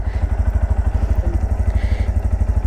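A Bajaj Pulsar NS160 motorcycle engine idles close by, its steady, rapid thumping pulses running evenly throughout with no talk over it.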